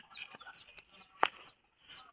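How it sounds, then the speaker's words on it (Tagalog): Soft, repeated chicken clucks sound at a steady rhythm, with one sharper squawk in the middle, fairly close and otherwise quiet. "May manok mga ka-Jis."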